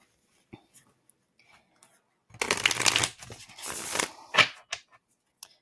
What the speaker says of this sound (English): So let's get a few shuffles in.